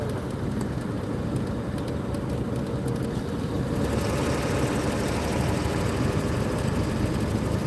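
A Ford 7.3 diesel truck engine idles loudly with a dense, rattly, continuous clatter and low rumble, heard up close and steady throughout.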